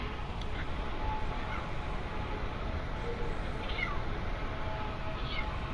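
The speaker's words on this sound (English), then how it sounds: "the cats are back at the door" Cats meow intermittently at a door against a steady, loud background hum; the cries are faint and scattered.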